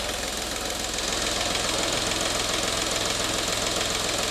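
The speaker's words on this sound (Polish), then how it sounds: "Silnik zaczął pracować naprawdę bardzo przyzwoicie." A VAG diesel engine with large injector corrections runs steadily with a rapid knocking clatter, loud and close, its rhythm unchanging throughout with no voices.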